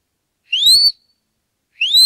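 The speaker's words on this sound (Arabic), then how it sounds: "كل ما كان صوت الصافرة أقوى كل ما وصلت لمسافة أبعد" A scout whistle gives two loud, shrill blasts with a rising pitch, each about half a second long, separated by a short silence.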